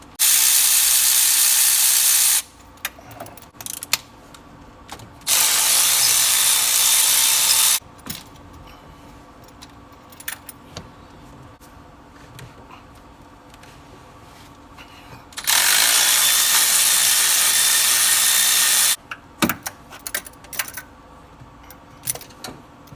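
A ratchet with a spark plug socket works loose the plugs on a Ford 6.2 V8, giving bursts of dense, hissing, high-pitched rasping that alternate with quieter stretches of scattered clicks and taps close by.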